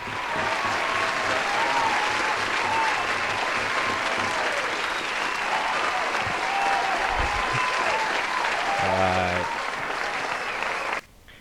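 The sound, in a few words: round of applause for trophy winners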